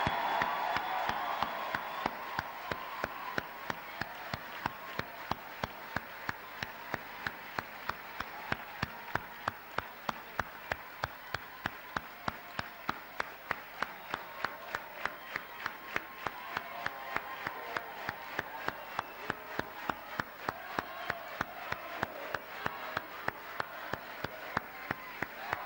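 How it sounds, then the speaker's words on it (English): An audience at a university commencement applauds the graduates, a steady, even clapping that holds evenly throughout, moderately distant in a large hall. "Please give a special applause to 2002 graduates."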